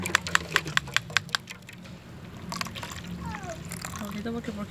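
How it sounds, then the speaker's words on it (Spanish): A little water is poured into a sesame-seed horchata mixture, in the Salvadoran style, producing a faint, soft trickle and slosh after a run of light clicking taps. "Echo un poquito de agua ahí."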